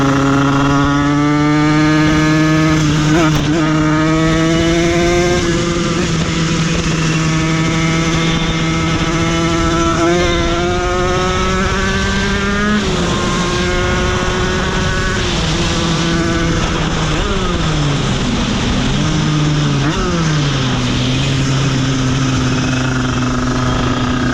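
A restored Derbi 50cc moped engine runs steadily outdoors, its two-stroke buzz holding a rising and falling pitch as the revs shift, loud and close throughout with no talking.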